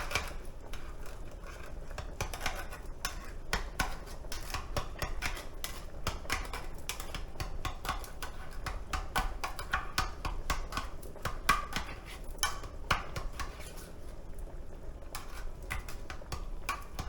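Canned tomatoes being roughly cut inside the can, a long run of quick, sharp metallic clicks and taps in an uneven rhythm, close and moderately loud, with no talk.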